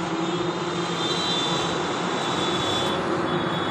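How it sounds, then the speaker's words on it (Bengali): A gas vehicle drives past near a fire-hit factory area in Haldia, giving a steady, loud engine drone with broad roaring noise that holds for several seconds. "গ্যাসের গাড়ি যাচ্ছে"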